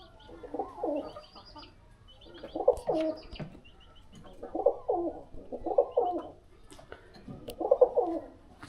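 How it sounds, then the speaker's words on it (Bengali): Pigeons coo in five or six soft, rounded bursts spaced a second or two apart, close by at a rural house with a pigeon loft, with a faint higher chirp or two between them. "এই কবুতরগুলো ঘরে উঠছে কিনা"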